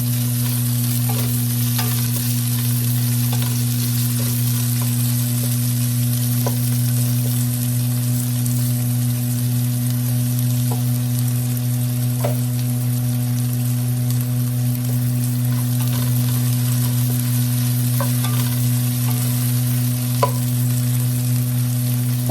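Onion and ginger sautéing in a hot pan with garlic for a Filipino tomato chicken dish, a steady close sizzle with light stirring clicks running throughout, no talking.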